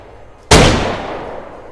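A single sharp gunshot from the video game DayZ cracks out loud and near, followed by a long fading rumbling echo.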